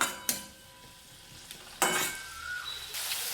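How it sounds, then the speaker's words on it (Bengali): Spice masala sizzles and fries in a pan while it is stirred for a kundri (ivy gourd) dish, with sharp scrapes of a utensil against the pan over a steady hiss. "দিয়ে দেওয়ার পর আবারও ভালো করে নাড়াচাড়া করে নেব।"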